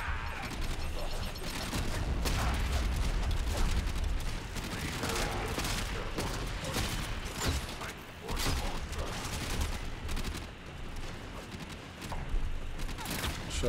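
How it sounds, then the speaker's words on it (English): A sticky grenade launcher fires repeatedly in the video game Warframe, dense bursts of gunfire and mechanical clatter over busy game ambience at moderate level. "So this fires sticky grenades."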